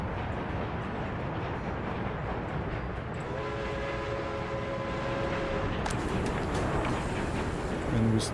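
Train running in the city-builder game Workers and Resources, a steady broadband rumble with a sustained tonal horn-like whine in the middle and a brighter rattle near the end.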